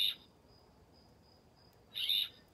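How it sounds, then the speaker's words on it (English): Two short, harsh raspy calls from a single Western Scrub Jay, spaced about two seconds apart, against a quiet background with faint insect hum. "The Western Scrub Jay"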